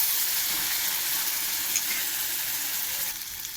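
Paneer and potato masala with ginger, green chilli, Kashmiri chilli, turmeric and salt sautés in a pan. A close, steady sizzle of frying continues unbroken and alone throughout.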